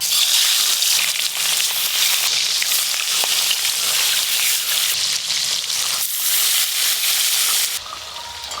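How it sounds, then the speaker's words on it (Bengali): Desi pond tilapia, rubbed with salt and turmeric, fries in hot oil with a loud, continuous hissing sizzle close up that eases off slightly at the very end. "তাহলে মাছে খুব ভালো করে লবণ হলুদ মাখিয়ে নিয়েছি, আর এদিকে তেল গরম হয়ে গেছে। এবার মাছগুলো ভেজে নেব।"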